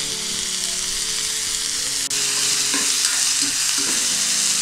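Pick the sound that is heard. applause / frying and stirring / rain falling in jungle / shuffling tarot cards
frying and stirring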